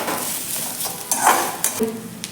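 Garlic being sautéed and stirred in a pan for a soybean curry, a soft steady sizzle with a few light spatula scrapes against the pan, close and continuous for a couple of seconds.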